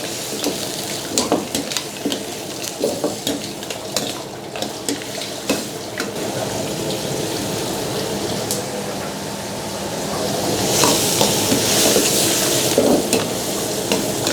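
Seafood and curry mixture stir-frying in a pan with a little added water, a steady sizzle under repeated clicks and scrapes of stirring, growing louder and hissier toward the end.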